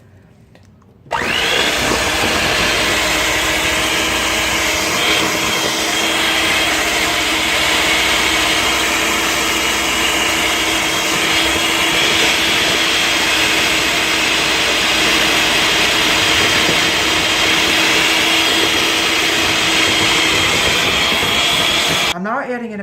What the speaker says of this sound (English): I'm going to mix up the egg white to get it nice and foamy